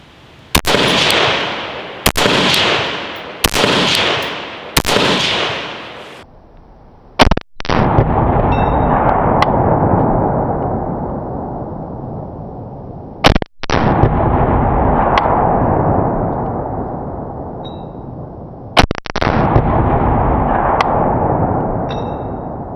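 A pistol fitted with a Sail compensator fires a magazine outdoors: a fast string of four loud shots, then several more spaced-out reports, each with a long rolling echo tailing off.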